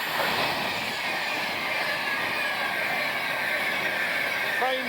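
A train rumbles steadily at Rugeley Trent Valley station, a continuous loud roar with a brief metallic squeal near the end.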